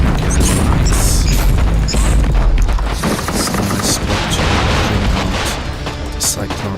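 In the video game Warhammer 40,000: Inquisitor - Martyr, a plasma cannon fires amid dense, continuous booming and rapid gunfire-like blasts. The combat noise is loud and sustained throughout and eases slightly toward the end.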